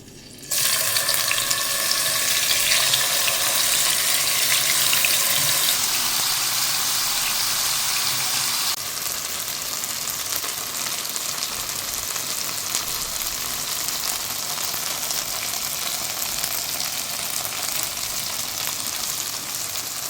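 Pearl spot fish frying in hot oil for a fish biryani, a loud steady sizzle and crackle that runs the whole time with no talk, easing slightly partway through.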